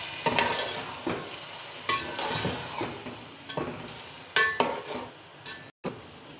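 Chicken and yogurt are stirred in a cooking pot, giving repeated scraping strokes of a spoon against metal at close range, with a soft sizzle underneath and a brief pause near the end.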